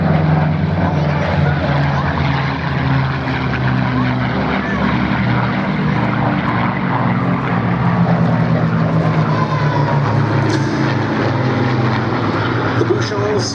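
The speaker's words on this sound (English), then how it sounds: "here they come indeed, P-47 and 2 Mustangs" A P-47 Thunderbolt and two Mustang fighters drone past at the Duxford Battle of Britain air show, a continuous rumbling piston-engine roar holding loud throughout while a voice talks over it.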